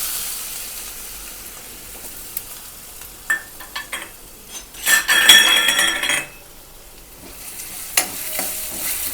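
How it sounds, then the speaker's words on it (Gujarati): Potatoes frying with asafoetida and cumin in a pan for okra-potato curry, a soft background sizzle broken by clinks and stirring clatter of a utensil against the pan, with a louder burst of frying near the middle; no speech. "હિંગ અને આપણે સૌથી પહેલાં જે છે એ બટેટા નાખી દઈશું"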